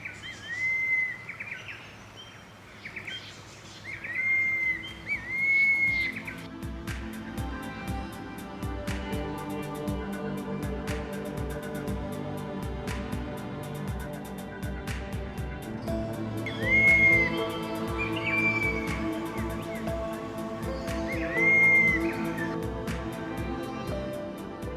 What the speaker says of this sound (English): 4 metres away from me is the fantail cuckoo